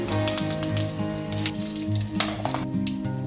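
Tempering spices sizzling and crackling in hot oil with garlic in a pan, a loud, steady close-up fry with sharp pops throughout, no talking.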